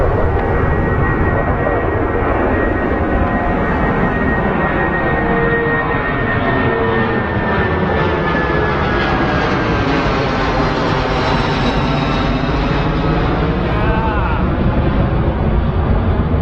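Boeing 747 engines at London Heathrow give a loud, steady jet roar that sweeps in pitch as the airliner banks and passes close overhead, lasting throughout.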